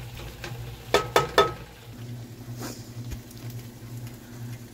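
Onions fry softly in a pan for smothered cabbage and pork, a low steady sizzle broken by three quick sharp clatters of a utensil against the pan early on.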